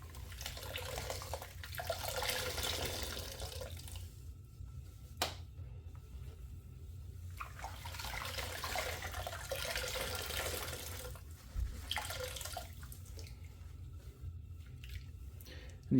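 Washed alpaca fleece is squeezed by hand in murky water, giving wet squishing and trickling, dripping sounds in repeated bursts separated by brief quieter pauses, close up.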